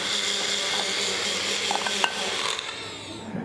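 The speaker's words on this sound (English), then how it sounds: "just screw the lid on the blender, and then we just blend it for about 20 seconds till it goes smooth" A kitchen blender whirs steadily while blending a liquid until smooth, a constant close motor whine with a few small knocks partway through, ending as the sound changes pitch.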